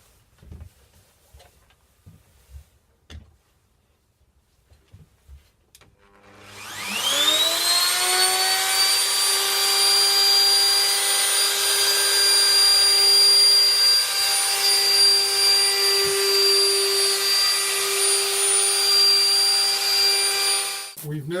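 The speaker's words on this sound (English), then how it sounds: "And this cuts a slot about 2 mil wide, and we can slide the router around and get that" A power router fitted with a slot-cutting bit spins up around seven seconds in and runs at a steady high-pitched whine while routing slots about 2 mm wide in wood for an arcade cabinet, with soft handling noises beforehand.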